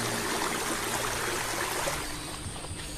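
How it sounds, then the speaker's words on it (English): Water flows and trickles through dry gullies, filling a pool, a steady hissing rush close by that softens slightly toward the end, no voices. "It moves like an alien force through dry gullies, and a very special place begins to fill with water."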